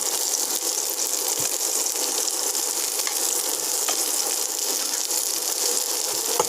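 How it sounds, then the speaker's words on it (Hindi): A stuffed roll fries in hot oil, giving a steady, loud, close sizzle with a constant crackling hiss that runs unbroken and alone for the whole stretch. "तो हमें फ्राई करना बा"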